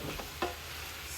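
Minced meat for a meat pie filling gets stirred in a frying pan, a faint sizzle with a single quick scrape of the spoon, close by and brief.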